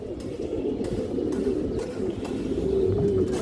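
A large silver female Giribaj high-flyer pigeon coos among other pigeons, a continuous low cooing murmur at close range with no voices.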